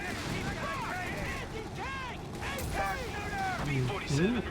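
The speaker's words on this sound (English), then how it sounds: "Is that just another strafe coming in?" Gunfire and rumbling battle sounds from a strafing run in Company of Heroes 3, steady and mid-loud under a commentator's voice, with musical tones sweeping in and out.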